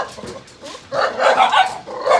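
A fluffy northern Vietnamese Bac Ha dog barks loudly and close, giving a few short yips followed by a denser burst of barking.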